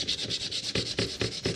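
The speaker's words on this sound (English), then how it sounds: "you just need a little bit of sandpaper just to scuff up the back of the" Sandpaper scuffs the back of a plastic multi-plug, a close, loud rasping rub in steady back-and-forth strokes, about eight passes with no voices.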